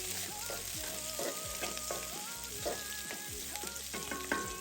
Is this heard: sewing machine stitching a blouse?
no